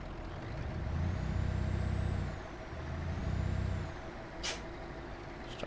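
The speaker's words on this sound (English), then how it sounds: "This truck sounds so good, man." A heavy-haul truck engine in Euro Truck Simulator 2 drones steadily, its revs rising and easing twice, before a sharp hiss of the air brakes; no one talks.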